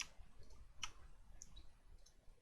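Computer mouse clicked while using Adobe Illustrator, a few sharp, faint clicks spaced apart in a quiet room.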